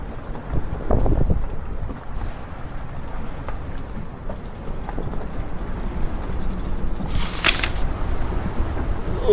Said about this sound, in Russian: О, сегодня тут у нас раскочегарилось море, ветер.